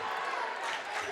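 A cheering section at a boys high school basketball game roars steadily, a dense, loud crowd noise filling the whole gym without a break, with voices blended into the din.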